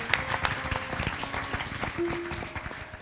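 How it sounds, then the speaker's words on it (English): A Hindu temple congregation at a Sunday service gives newcomers a warm round of applause, a steady wash of many hands clapping in a reverberant hall, with a few brief tones and murmurs underneath. "Let's give them all a wonderful round of applause, please."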